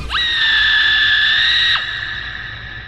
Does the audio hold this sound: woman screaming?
yes